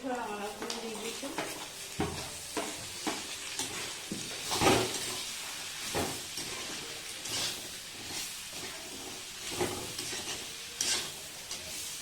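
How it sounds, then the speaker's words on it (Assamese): Chopped pumpkin tipped into a hot pan of ginger and garlic paste, a moderate hiss and sizzle with repeated stirring scrapes and clatters, a voice talking faintly underneath. "এতিয়া মই ইয়াতে কুটি থোৱা ৰঙালাওখিনি দি দিছোঁ।"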